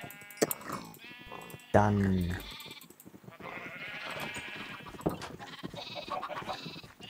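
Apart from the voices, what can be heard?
sheep bleating in Minecraft video game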